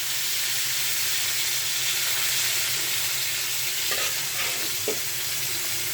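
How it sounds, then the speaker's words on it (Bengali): Coral fish fries in hot oil with a steady, even sizzle and hiss throughout, close and constant, with a couple of faint clinks near the end. "মাছটা তেলের উপরে ভাজতে চলে আসলাম"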